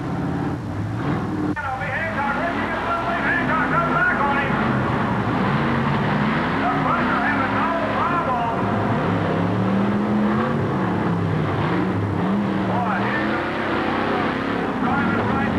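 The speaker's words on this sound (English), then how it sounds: "Terminator was slow getting out of the hole and unable to catch up to the big Ford." A Ford Bronco and a big Ford truck drag race off the starting line at a 1987 TNT event in Cleveland, loud engines revving and wavering over crowd and announcer noise, the roar sustained across the run.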